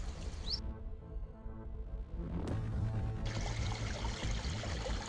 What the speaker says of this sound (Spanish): Sin este goteo constante entre los riscos